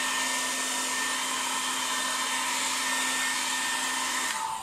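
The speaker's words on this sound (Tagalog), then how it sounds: "pwede nating i-hit yung mga joints using a hair blower" A hair blower runs steadily, heating the joints of a 12-inch Marvel Legends Wolverine action figure: a loud, constant whirring hiss that holds at close range, then shifts tone just before the end.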